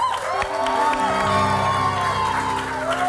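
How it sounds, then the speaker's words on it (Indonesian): A studio crowd at an Indonesian music-guessing game show cheers and applauds after a correct answer, a loud, steady mix of clapping and whoops over a musical backing throughout. "Boleh tepuk tangan dong?"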